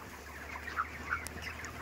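Broiler chickens on day 32 of rearing calling in a barn, a few raised squawks over a steady background of clucking and fan hum.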